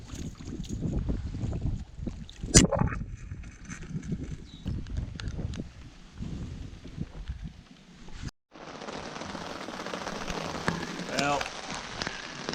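Rain falling outdoors during a fishing trip after catching a catfish, a dense steady patter with a few sharp knocks near the start, a brief cutout, then heavier hiss; someone speaks a single word early on.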